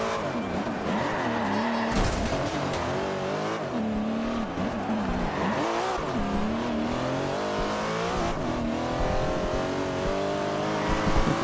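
A Nissan races and skids in the video game Forza Horizon 2, its engine revving loud and continuous while tires squeal through turns, with steady game audio throughout and no pauses.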